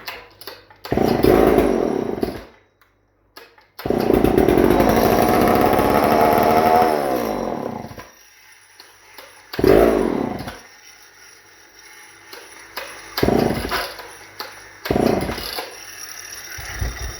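A Homelite XL 922 Super chainsaw engine fires up and runs loudly in several bursts, the longest lasting a few seconds, then cuts out, with quieter gaps and a few short revving attempts toward the end.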